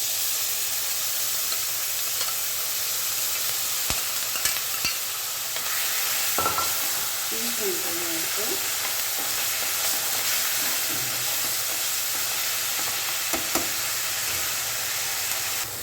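Mustard seeds sizzling in hot oil in a pan, a steady frying hiss with occasional faint pops and stirring scrapes, continuous and close.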